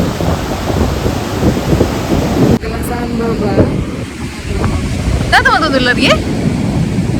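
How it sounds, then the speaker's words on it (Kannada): Strong sea waves surge onto a beach in a steady, loud roar of broadband surf that fills the whole stretch, with people talking over the rush of water. "ಕಡಲ್ದ ಅಲೆಗಳು ಭಾರಿ ಫೋರ್ಸ್ ಬರೋದುಂಡು"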